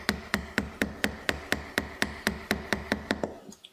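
Light chisel work on a carving block: about fourteen crisp, evenly spaced taps in a steady, brisk rhythm, close and moderately loud. Each tap rings briefly before the next, and the tapping stops just before the end, with no voices.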